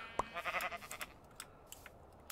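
A Minecraft sheep bleats a few times close by, short wavering calls followed by faint crunching and soft clicks in a quiet scene.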